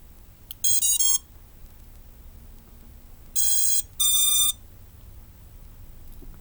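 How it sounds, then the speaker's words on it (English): Two groups of short, bright electronic beep tones from a Volador II DeadCat drone's motors starting up sound over a quiet hum, each group a quick tuneful sequence, the second set longer with a pause. "All the motors do all the beeps."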